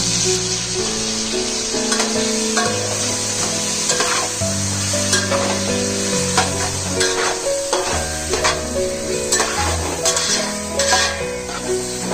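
Chicken fries in 2 to 3 teaspoons of oil in a hot wok with a loud, steady sizzle. Continuous stirring scrapes sound right up close, with no speech.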